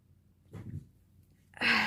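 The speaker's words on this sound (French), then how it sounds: "Ah, désolée, j'ai éternué." A woman's sneeze, preceded by quieter breathy sounds, ends in one sudden, loud, close burst.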